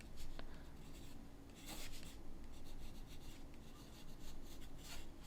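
Ink pen scratching across paper in an urban sketching session, a steady dry rasp of continuous strokes with brief brighter flicks, close and alone without talk.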